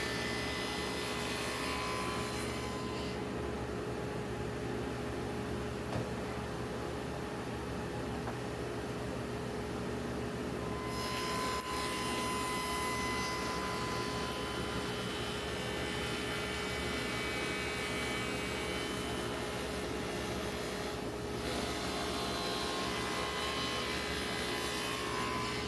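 A table saw fitted with a Rockler Miter Fold dado set runs as a steady, fairly faint mechanical hum while it makes two passes through wood for shop drawers. The tone shifts slightly as the blade takes the load.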